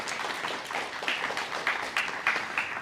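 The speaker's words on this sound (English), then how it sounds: "A round of applause, please." An audience at a guide dog graduation claps for the puppy raising community, a steady patter of many hands at moderate distance, without voices.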